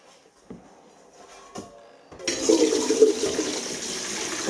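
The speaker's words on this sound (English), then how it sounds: "So what I'm going to do now is wash them under clean water." Blackberries are rinsed under a running kitchen tap. A couple of soft knocks come first, then the water starts and gushes steadily and fairly close.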